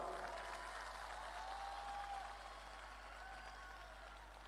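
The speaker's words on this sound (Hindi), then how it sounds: "तालियां बजा के बताइए" Audience clapping fills a live Hindi poetry recital at a festival in Khurai, a steady broad wash of applause that fades slightly toward the end, with no voices over it.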